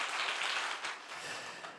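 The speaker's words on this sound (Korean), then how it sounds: "우리 큰 박수로 환영하겠습니다." A short burst of applause from a church congregation at a Sunday service, hands clapping rapidly and evenly, fairly loud and close, easing slightly as it goes on.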